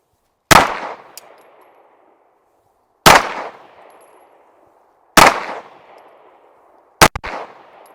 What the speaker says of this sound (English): We've only got 5 rounds of this ammo here, but we'll see how we do.